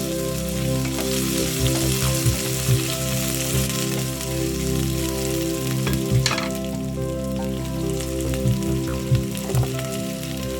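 Something sautéing in a pan hisses and crackles steadily throughout, with soft scraping stirs over a low hum; no one talks.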